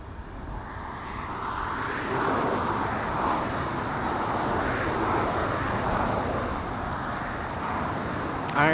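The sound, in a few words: Japan Airlines Boeing 777-300 jet departing LAX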